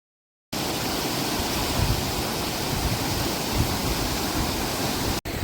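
After a moment of silence, a monsoon waterfall near Kolhapur roars in steadily, a loud, constant wash of rushing water without pause.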